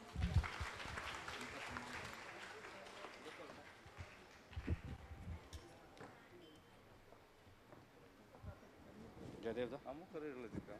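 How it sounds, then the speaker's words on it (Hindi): A seated audience at a conference gathering claps in faint, uneven bursts, with quieter stretches between them and talk mixed in among the clapping. "इनके अमूल्य शब्दों के लिए तालियां तो बनती है।"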